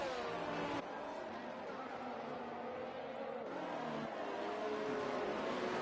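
Formula 1 race cars in an online league race of the Formula 1 video game at the Brazil round, including a Haas on hard tyres, their engines droning and shifting pitch continuously over steady track noise.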